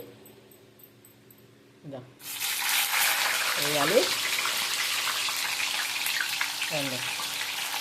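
Raw plantain pieces are added to a pan, and a steady loud frying hiss starts suddenly after about two seconds and continues. Someone speaks briefly, and a few clinks of utensils sound over the hiss.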